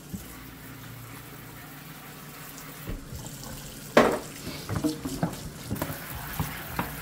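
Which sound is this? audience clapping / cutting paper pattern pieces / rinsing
rinsing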